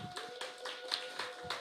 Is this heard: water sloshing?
no